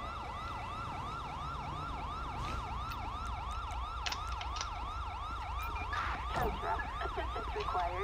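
Wailing emergency vehicle sirens from GTA V, several overlapping in a steady rising-and-falling sweep, loud and close over a low traffic rumble, with a few sharper bursts toward the end.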